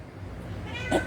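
A cat gives a single short meow near the end, moderately close, after a quiet stretch of low room noise.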